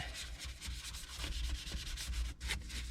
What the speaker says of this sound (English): just take our detail brush and just scrub everything